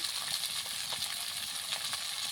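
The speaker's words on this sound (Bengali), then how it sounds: "আমি একসাথে ভালো করে লাল করে ভেজে নেব।" Carrots and capsicum frying together in a pan for an egg curry, an even, close hiss of sizzling oil with a bright crackling texture and faint stirring scrapes, steady throughout and free of talk.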